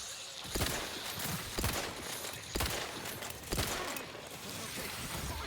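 Repeated gunfire from a security team in the video game The Outer Worlds 2: about four sharp shots spaced roughly a second apart over a steady background din, fairly loud and close.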